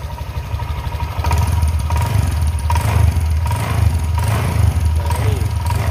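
Honda Vario 150 scooter engine, under repair for stuttering and sluggish acceleration, idles with a rapid putter and then is revved up to a steadier, louder drone that holds for several seconds, close to the microphone.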